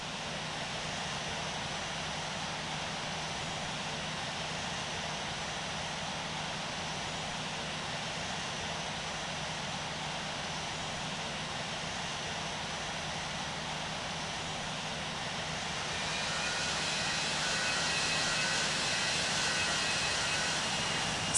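A simulated Boeing 747-200 in TAP Portugal livery taxis toward runway 27 at San Diego in Infinite Flight, a continuous jet engine whine and roar that holds steady and swells slightly near the end.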